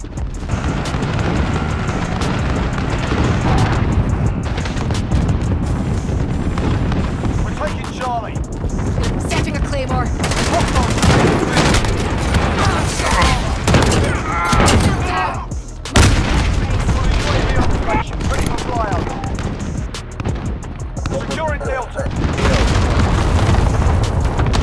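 Modern Warfare match with dense, continuous gunfire and booming explosions throughout, loud and busy, with players talking and an in-game announcer voice over the combat.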